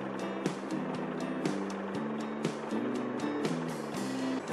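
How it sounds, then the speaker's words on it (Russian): A cartoon garbage truck drives along with a steady motor hum and shifting tonal engine notes, loud and continuous with a few small knocks, no talk over it. "Но за ними едет машина-мусоровоз."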